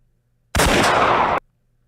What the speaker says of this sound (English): I did not mean to play the gunshot again